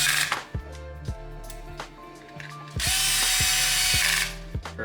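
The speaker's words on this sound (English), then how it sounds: "We're gonna zap that guy into place with the lowest torque setting on our driver." A power driver set to its lowest torque drives a black flathead Torx T10 plastite screw into a robot kit servo mount, whirring and ratcheting in short close bursts with brief pauses between.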